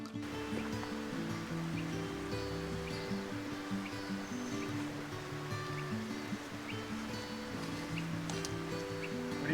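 A river rushes at a trail crossing in remote Montana, a continuous, even wash of flowing water heard from close by with no talking.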